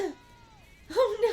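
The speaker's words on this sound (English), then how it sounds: "And now you hear the cats again." Cats meow in a childhood video game, a short wavering cry rising near the end alongside other game sounds, heard in a brief moment with a faint voice-like tone in the background.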